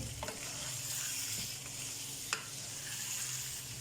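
Small chicken pieces frying in a pan and being stirred, a continuous close sizzle with a few faint scrapes and one sharp tap of the utensil, no voices.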